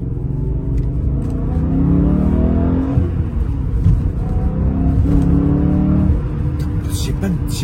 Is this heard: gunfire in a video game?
no